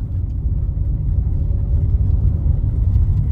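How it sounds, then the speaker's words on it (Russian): A car drives near an Olympos beach area in Turkey, heard from inside as a steady low rumbling engine and road noise with no speech. "Я хочу заехать на машине."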